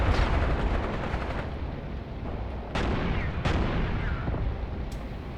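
Artillery battery firing in the tank warfare game Graviteam Tactics: Mius Front, a dense, continuous rumble of distant booms with a few sharper blasts standing out, steady and loud throughout.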